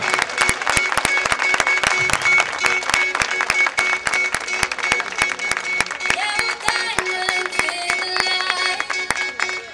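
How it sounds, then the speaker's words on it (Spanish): Audience applause and clapping fill the hall at the opening of a roller skating festival, a loud, dense and steady wash of hands, with music playing along underneath the whole time. "Un aplauso bien,"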